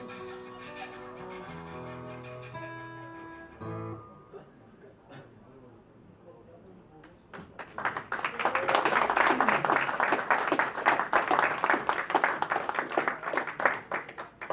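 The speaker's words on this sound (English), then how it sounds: "Can we have another big round of applause?" A Rotary Club audience breaks into loud, sustained applause about halfway through, following a quieter opening of tones and murmuring.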